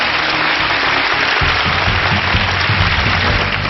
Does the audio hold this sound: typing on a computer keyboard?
no